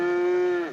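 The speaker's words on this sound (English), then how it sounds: "Sounds like a cow's in there." A single short, loud, close moo from a cow shut inside a train car, steady and tonal, tapering off at the end.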